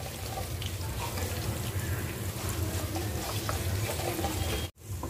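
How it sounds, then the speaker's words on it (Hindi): Spices for raw mango pickle fry in hot oil in a pan with a dense, steady hiss and crackle, close and continuous, cutting out abruptly near the end. "एक से दो मिनट तक ही मैं ये मसालों को फ्राई करूँगी"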